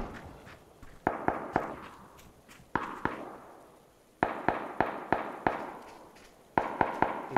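Gunfire in the battle royale game PUBG in fog, a series of sharp distant shots in bursts and singles, some clustered in quick runs of three or four, with no talk.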